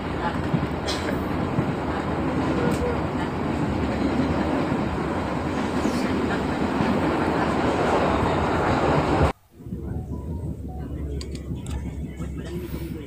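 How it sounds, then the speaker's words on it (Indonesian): A Logawa passenger train departing Surabaya rolls steadily along the rails with a continuous rumbling roar, a brief dip near the end, and faint voices in the background. "kali ini kereta sudah mulai start dari Surabaya"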